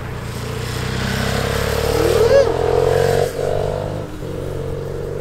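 Motorcycles pass on a Swiss mountain road, one engine revving and rising in pitch as it sweeps by close, with a steady drone of traffic and voices talking over it.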